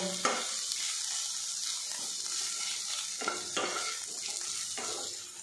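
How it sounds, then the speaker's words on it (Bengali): Mashed potato, cumin and coriander powder stirred into onions in a frying pan for a spinach snack, a steady sizzle with a few scraping spatula strokes against the pan, close and without talk. "পেঁয়াজের সাথে একটু ভালো করে মিক্স করে নেব।"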